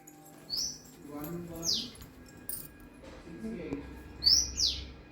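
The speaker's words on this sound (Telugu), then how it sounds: "కూడా పిట్టలు వచ్చినాయి" Small birds chirp outdoors in three brief bursts of high, quick tweets spread across a few seconds, fairly close and clear over a faint background hum with some low murmuring.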